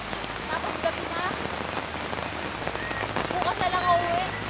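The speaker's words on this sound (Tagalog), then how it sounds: "umuulan pa" Rain falling steadily in the mountains at night, a dense close patter on surfaces, with faint voices murmuring now and then underneath.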